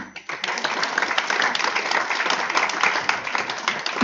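Sustained audience applause at a healthcare conference in Italy, a dense wash of many hands clapping steadily for about four seconds after a speaker's introduction, fairly loud and uninterrupted.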